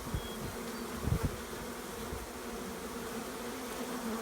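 Honeybees from a hive box set up after a rotten-tree colony removal hum and fan in a faint, steady drone, with a few soft low thumps close by early on.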